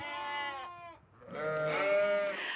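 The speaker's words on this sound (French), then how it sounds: "Ça fait quand même pas mal de bruit un mouton en fait." A sheep on a farm gives two loud, close bleats, one long call and then a second wavering one after a short gap.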